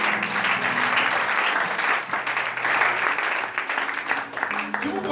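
A church congregation applauds the Lord, sustained dense clapping from a crowd filling the room, steady and loud, with a voice speaking over it.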